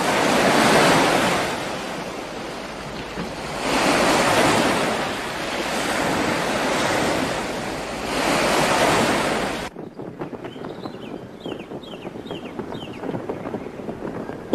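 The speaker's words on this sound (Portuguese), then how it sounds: "O vento está cada vez mais forte." Strong wind in the Hunter x Hunter (1999) anime gusts in swelling, roaring waves of noise for several seconds, then cuts off to a quieter rustling scene with faint bird calls.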